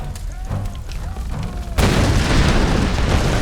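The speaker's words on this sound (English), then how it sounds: "The whole fucking castle is exploding now?" A castle explodes in the Tomb Raider video game: a sudden heavy boom breaks in midway, then a loud, dense roar of rumbling debris and blasts continues, with faint voices beforehand.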